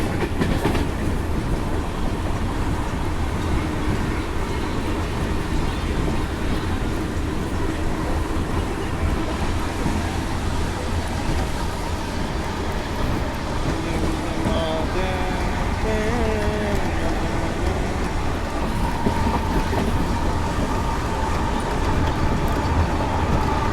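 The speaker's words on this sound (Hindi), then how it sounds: "इस सच में ट्रेन इतनी सुंदरता से भाई कर्व ले भी रही है" A passenger train on the Brindavan Express route from Bengaluru to Chennai runs steadily through a curve, with a constant loud rumble and rhythmic clatter of wheels, with faint squeals partway through.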